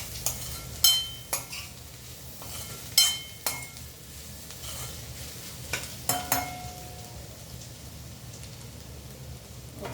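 A spoon stirs chilli powder into cabbage and split-pea dal curry in a pan, giving a series of sharp scraping knocks at irregular intervals over a soft low sizzle.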